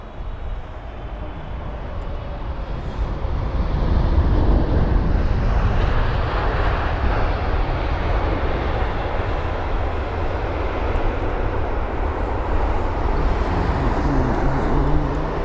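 An Egypt Air Boeing 777-300ER jet at Heathrow gives a loud, continuous roar that swells and holds for the whole clip, with no voices.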